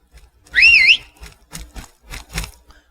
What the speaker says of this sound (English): Let's see if the horse whistle brings our horse to us